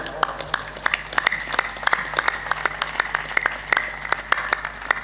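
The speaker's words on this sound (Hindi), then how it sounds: "तुम ताली तो बजाओ" Scattered hand claps from an audience at a Hindi religious discourse, loose and uneven over about five seconds, with a steady tonal hum and voices underneath.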